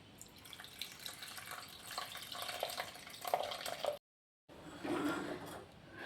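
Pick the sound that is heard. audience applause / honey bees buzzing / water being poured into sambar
water being poured into sambar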